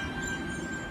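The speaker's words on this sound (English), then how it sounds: "Epping service now departing platform 3." A Sydney Tangara train pulling away from a station platform, a steady low rumble with a faint high tonal whine, fairly quiet and without voices.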